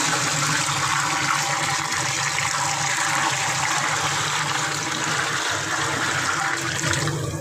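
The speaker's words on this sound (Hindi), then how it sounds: "तो इसमें भी 1 बाल्टी और पानी की ऐड करेंगे।" A bucket of water gushes into a large pot of rice, a continuous loud rushing pour lasting several seconds, close and steady with no talk over it.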